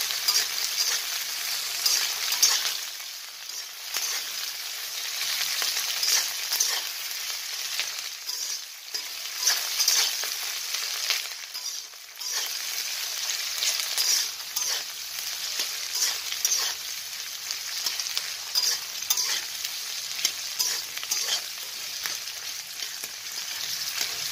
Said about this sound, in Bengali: তারপরে সিমলা মির্চটাও দিয়ে দিলাম। আমি পরে করে সবগুলো খুব বেশি তো ভাজছি না, একটু নাড়াচাড়া হবে।